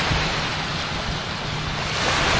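Sea waves wash steadily onto a sandy beach where families, young people and children swim, a continuous broadband rush of surf with some wind across the microphone and no voices.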